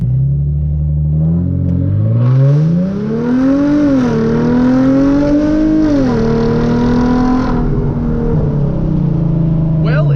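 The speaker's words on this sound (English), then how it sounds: "So yeah, I guess let's go ahead and launch it." Hyundai Genesis Coupe launching from a standstill with traction control off: a loud, close engine roar climbs steadily through two upshifts with brief dips between gears, then holds a high drone before easing off, heard from inside the car.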